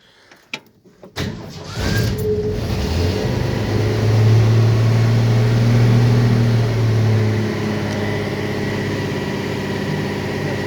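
The engine of a 1966 Ford F100 work truck, with a choke linkage needing repair, cranks over briefly after a few clicks, then catches and settles into a loud, steady rumbling idle.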